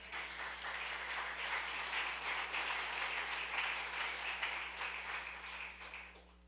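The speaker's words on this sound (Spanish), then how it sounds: "¿Quieres aplaudir eso?" A church congregation applauds together, a dense, steady wash of many hands clapping at moderate distance that holds evenly for several seconds before tapering off, over a low constant hum.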